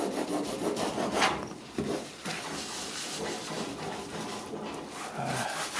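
A stiff brush scrubs a trailer with detergent, pressing hard to strip green growth; steady close rasping strokes repeat throughout with no talk.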